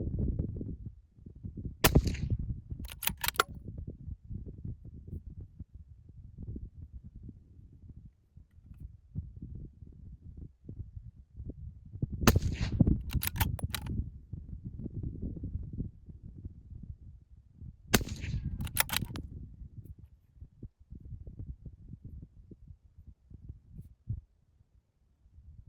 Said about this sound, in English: I said it was going to shoot 5 rounds.